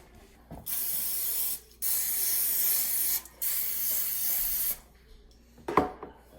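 Three long hissing bursts of aerosol cooking spray into foil pans, each a couple of seconds, separated by short pauses, followed by a few light clicks and taps.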